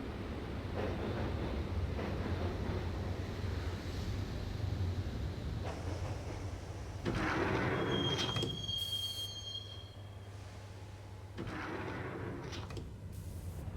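A train rolls along in the Max Payne video game, with a steady rumbling ride, clattering wheels and high metallic squeals rising partway through, heard alone with no voices.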